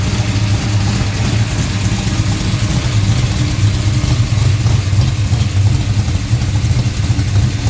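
A pump-gas 535 cubic inch RA5 tunnel port V8 idles steadily around 1000 RPM, a loud, continuous low rumble with a slightly lopey cam overlap and no voices over it.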